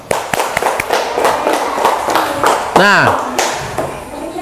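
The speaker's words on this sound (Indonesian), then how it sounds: "silakan tepuk tangan untuk kelompok A." A classroom of students claps for a group after their presentation, with a dense burst of hand claps under a talking teacher's voice and a brief whooping shout near the middle.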